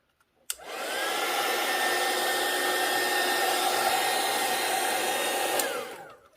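A hair dryer blows steadily on craft journal paper, switching on with a click, holding an even close whoosh with a faint whine for about five seconds, then cutting off.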